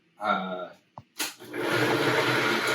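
Kitchen blender starting up after a brief spoken moment, then running as a steady, loud whirring grind that fills the rest of the clip.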